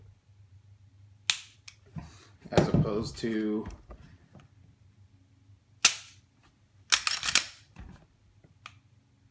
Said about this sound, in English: And here's your reset. You'll hear it click. So that was a definite pop click.